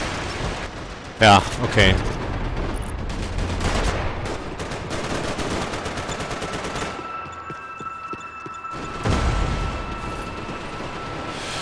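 Grenade blasts and bursts of automatic gunfire from the video game Max Payne 3, loud and dense, with a sharp explosion early on and rattling fire throughout, under a man's brief speech.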